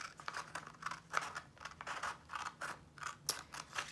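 Scissors snipping through paper to make a pinwheel, a quick run of crisp close cuts and rustles in irregular rhythm, with no talking.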